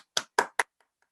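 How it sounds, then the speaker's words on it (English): Three sharp, close hand claps in quick succession, followed by two faint trailing taps, from one person applauding the debaters at a schools' debating final. "Let's give them all a great round of applause and put lots of reactions in the chat"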